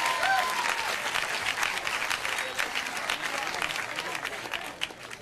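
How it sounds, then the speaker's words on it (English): Applause from the non-smokers in a stand-up comedy audience at a comedian's show, a moderate, scattered patter of clapping that thins toward the end, mixed with voices and crowd murmur. "By round of applause, non-smokers."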